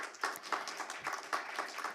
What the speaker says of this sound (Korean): 여러분들 큰 박수 부탁드릴게요